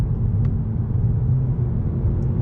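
A 2021 Honda Accord Sport Special Edition with a CVT transmission downshifts while driving, giving a steady, loud low engine and road rumble heard from inside the cabin, with no talking.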